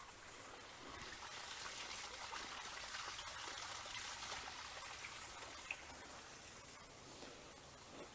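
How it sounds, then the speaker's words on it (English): A woodland creek in the deep North Georgia mountains flows steadily in a constant rushing babble and trickle, close and even throughout, with no voices. "I already know where this creek leads."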